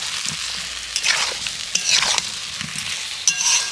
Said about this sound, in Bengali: মশলার সাথে এই আলুটাকেও ভালো করে কষিয়ে নেব